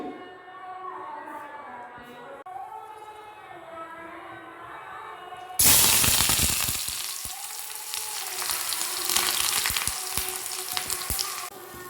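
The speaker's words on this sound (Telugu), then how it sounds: "ఆనియన్స్ పచ్చిమిర్చి ఇలా ఫ్రై చేసుకుంటున్నాను" Chopped onions and green chillies for an omelette frying in a pan; a quiet start with a voice speaking, then a loud sudden sizzle that continues with stirring clicks, speech occasionally over it.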